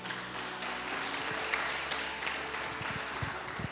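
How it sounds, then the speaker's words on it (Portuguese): Applause from a church congregation during a sermon, a steady, moderately faint wash of clapping from many people throughout, with a few distinct claps near the end. "Aplauda Ele mais uma vez."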